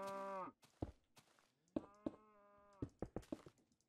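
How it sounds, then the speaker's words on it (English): Cows in the Minecraft video game give a series of clear, close moos, one long and others shorter, mixed with thuds and clicks of gameplay. "Cows and pigs."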